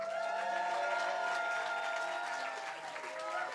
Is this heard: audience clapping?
yes